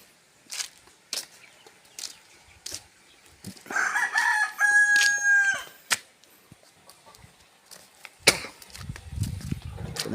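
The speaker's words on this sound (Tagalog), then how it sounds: "Ito ang manok." A rooster crows once, loud and nearby, among scattered footsteps and small knocks, with a bit of clucking before and after.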